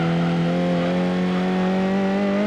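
A race car engine in Gran Turismo 7 holds a loud, steady high-revving drone that climbs slightly in pitch over a couple of seconds, with no talk.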